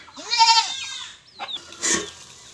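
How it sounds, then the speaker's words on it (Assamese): A goat kept on an Assamese homestead lets out one loud, wavering bleat up close, followed by a couple of shorter, rougher calls. "এয়া চাওক আমাৰ ছাগলী এইখিনিয়ে বেবাই থাকে আৰু কুকুৰা"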